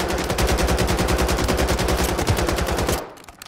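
Submachine gun firing in Call of Duty, a rapid continuous burst of evenly spaced shots for about three seconds before cutting off, loud and close with no talking.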